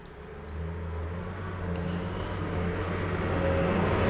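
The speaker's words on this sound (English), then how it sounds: "Oh, we've got some traffic out here today." Road traffic passing outside a house, a steady low vehicle rumble that swells gradually as a car approaches, moderately distant and continuous.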